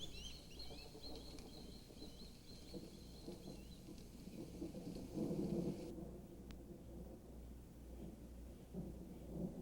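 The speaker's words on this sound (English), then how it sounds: "a storm blew in from the Caribbean, and the summer rainy season made a dramatic start" A thunderstorm sweeps over the Everglades as the summer rainy season begins, with low rumbling thunder swelling and fading under a steady hiss of rain, and faint bird calls in the background.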